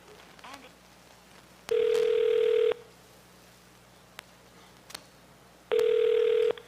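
A car service phone line on hold, with two steady electronic tone bursts of about a second each, separated by a quiet gap with faint line noise.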